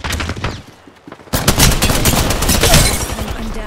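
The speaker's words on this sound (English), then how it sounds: "Opening fire." Rapid gunfire from weapons in the battle game Apex Legends, with a quiet stretch and a few softer shots before a dense, loud burst of sustained automatic fire that fills the rest of the moment.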